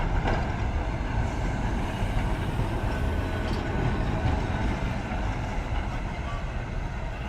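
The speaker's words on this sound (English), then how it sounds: "there's another old heritage tram" An old heritage tram rolls past on the Blackpool seafront with a steady rumble and rail noise throughout, continuous and fairly close.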